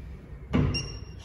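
A frosted glass door to a hotel executive lounge opens with a soft thud, followed by a thin, sustained electronic tone, quiet and close against a low room hum.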